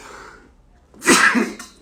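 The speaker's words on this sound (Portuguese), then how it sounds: "Me deu uma crise de espirro agora." A person has a sudden sneezing fit during a live online session: one loud, forceful sneeze bursts out near the mic after a quiet stretch with soft breathing, then tails off.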